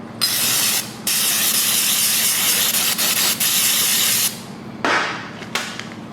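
Compressed air hose blasting an engine part dry during a Ford 302 small block build, a loud continuous hiss with brief breaks near one and five seconds, no talking.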